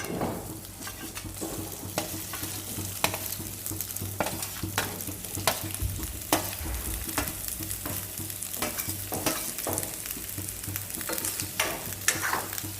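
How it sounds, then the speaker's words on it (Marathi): Boiled potato pieces are stir-fried in a pan, with a steady sizzle and repeated scraping and tapping of a spatula against the metal in a busy, continuous rhythm. "आता ते आपण यामध्ये टाकणार आहोत"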